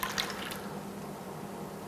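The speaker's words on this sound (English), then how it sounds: "So we're gonna pour this into the yeast." Lukewarm water poured from a cup into yeast in a mixing bowl for focaccia dough gives a soft, steady trickle with a few faint drips, quiet and continuous, with no talking.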